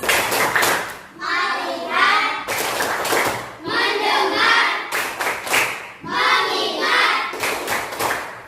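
A primary-school class claps the 'tepuk fokus' rhythm in unison, quick bursts of hand claps alternating with children's chanted voices, repeated in three lively, close cycles.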